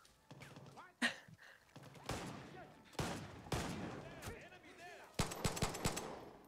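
Gunfire in the shooter game Far Cry 6: several sharp bursts of rapid shots, the loudest near the end, broken by gaps, with a steady layer of game ambience under them and no talk.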